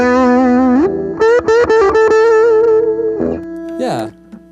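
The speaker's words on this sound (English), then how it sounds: "It gets a little louder when you cut the distortion on" A distorted electric guitar plays sustained notes and quick bends, loud and buzzy, then fades into a short squealing slide at the end.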